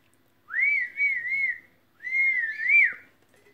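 Two long melodic whistles in Zelda Breath of the Wild, used to call a horse, each rising and wavering, clear and moderately loud against silence with a short pause between them.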